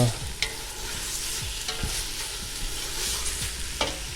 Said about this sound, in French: on laisse d'abord bien colorer notre viande, nos oignons, notre lard là